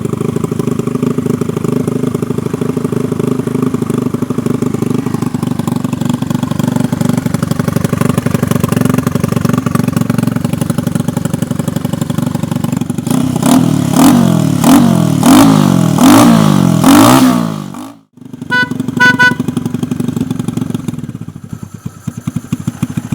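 A Honda Chaly motorcycle engine, off choke, idles steadily and loudly up close, then rises through a quick string of throttle blips before briefly cutting out and settling back to a rough idle.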